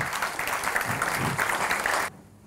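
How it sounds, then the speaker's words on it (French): Warm audience applause at a French business awards event, a dense steady wash of clapping that stops abruptly, leaving near silence. "Et on peut les applaudir chaleureusement."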